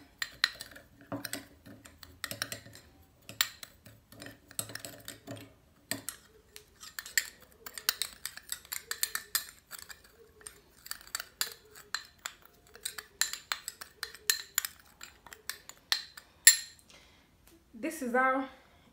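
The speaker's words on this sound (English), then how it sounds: "Add sugar to it. Then mix the two very well." A spoon stirs sugar into a small homemade face pack, making quick, close clinks and scrapes against the bowl in uneven bursts, with a brief voice near the end.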